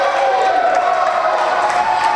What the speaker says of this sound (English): Crowd's going nuts here.